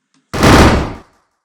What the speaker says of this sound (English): The sound of multiple gunshots rang out throughout the entire building.